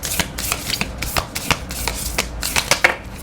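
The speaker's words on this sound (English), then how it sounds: "These are very difficult to shuffle." A deck of tarot cards is shuffled by hand in quick, crisp riffles and slaps, a steady run of sharp close-up card snaps that continues without pause and with no voice over it.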